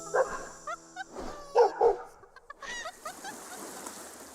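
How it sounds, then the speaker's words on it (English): A dog barks several times in short separate bursts, fairly close and clear, with a few gaps between barks and some fowl-like clucking in the background. "Fighting, barked Pushkin"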